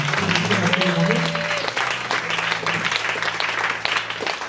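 A church congregation applauds during a worship service, a steady wash of clapping heard close with voices and a sustained tone mixed in.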